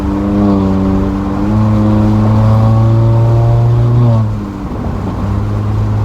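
A 2019–2020 Honda Accord Sport 1.5T with intercooler resonator deleted drones loudly with a throaty exhaust, its pitch shifting as the revs change, heard from inside the moving car with the front window down.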